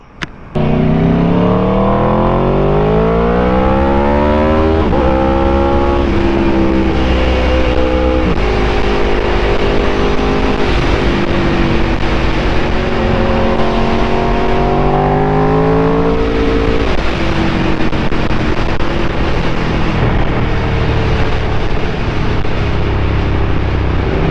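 A loud motorcycle with a temporary exhaust revs up and down repeatedly as it rides, its exhaust note climbing and falling, continuous and close.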